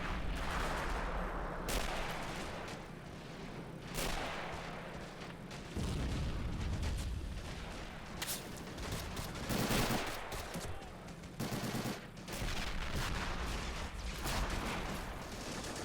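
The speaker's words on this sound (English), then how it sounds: "So many grenades are being thrown." Grenade blasts and heavy gunfire fill a World War II video game battle, with dense, continuous rattling shots and repeated loud explosive booms throughout, no voices.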